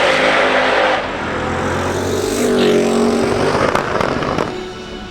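Drag race cars roar down the strip at a drag shootout, a loud sustained engine blast with revving and popping that surges again midway, then fades near the end.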